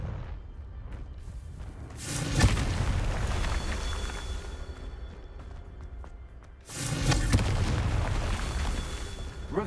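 Two heavy, booming blasts from the Confringo fire spell in Hogwarts Legacy, each a loud burst that rumbles on and fades, several seconds apart.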